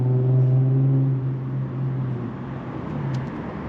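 A Tesla Model S Plaid creeps forward under Summon, a low steady motor hum fading after the first second into a soft, even whir with faint road texture.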